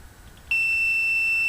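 After a short quiet moment, a piercing Arduino buzzer switches on alongside an LED and holds a steady, unbroken high tone.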